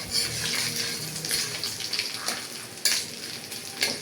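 Garlic and panch phoron five-spice seeds fry in oil for a sweet olive pickle, giving a continuous bright crackling sizzle with occasional sharper pops and faint clinks of a pan, close and alone.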